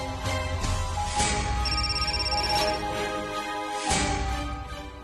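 A phone ringing with the call going unanswered, a repeating electronic ringtone at moderate level, looping steadily with brief pauses.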